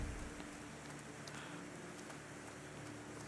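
Steady rain falls in a garden scene in the video game The Thaumaturge, a soft continuous wash of patter with faint droplet ticks, even and unbroken throughout.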